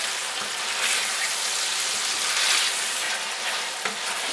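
Beef steak pieces, cut across the grain, stir-fry for beef with oyster sauce, a loud, steady, close sizzle with hissing bursts and occasional stirring movement throughout.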